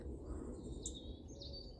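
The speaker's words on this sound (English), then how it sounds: "I can hear the robin chirping behind me" A European robin chirps near its nest among garden plant pots, with a few faint, high, brief calls over a low steady background.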